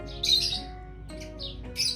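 Pigeons on a rooftop, a few close bird calls and flutters in two short bursts over a steady low background.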